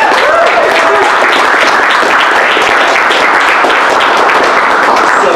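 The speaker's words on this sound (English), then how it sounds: "Let's have a big round of applause for Hyper RPG." A large crowd at the Valiant Summit 2017 applauds the Hyper RPG crew, with loud, continuous clapping throughout. A faint voice is briefly audible near the start.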